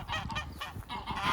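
Geese kept behind a fence give a quick burst of several nasal honks in close succession, moderately loud and near.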